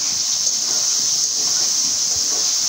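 Steady steam hiss from a pot of boiling potatoes as the lid comes off, a constant bright rushing sound, close and fairly loud.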